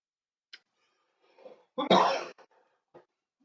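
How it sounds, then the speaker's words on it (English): A single close, harsh cough stands out over a quiet background, framed by a few short breathy sounds before and after. "you won't be able to hear me cough"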